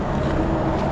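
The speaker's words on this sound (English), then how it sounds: "Pardon the road noise." Road traffic noise from busy Route 322 beside a river walking bridge in Pennsylvania: a constant, loud broadband rumble and whoosh with no break, and no talk over it.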